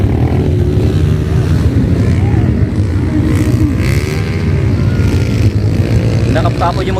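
Enduro motorcycle engines droning loudly and continuously at a moto enduro fun race in Sagada, a steady low rumble with passing revs, with people talking over it.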